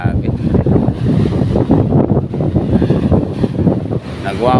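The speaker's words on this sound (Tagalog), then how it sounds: "Nagwawala talaga ang alon dito sa amin" Loud, rough sea surf crashes continuously while strong northeast monsoon wind buffets the microphone, a dense roar of churning water with no pause.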